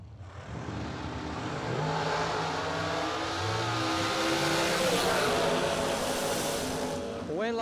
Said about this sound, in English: First round dragster is Isaac Harrison, Kevin Bennett